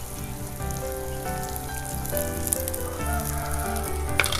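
Salt, turmeric and chili marinated small fish dropped into frying masala in a Telugu home kitchen, sizzling steadily and closely throughout with crackling pops and a sharp spatter near the end.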